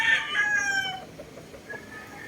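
A gamecock rooster kept for cockfighting crows once, close and fairly loud, the long call fading out and followed by quieter rustling and faint background noise.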